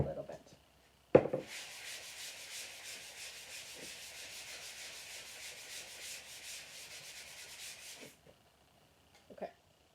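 Low-grit sandpaper rubbing over a wooden pumpkin, a steady rasping scrape that runs for about seven seconds after a sharp knock, close and fairly loud, with brief handling noises before and after.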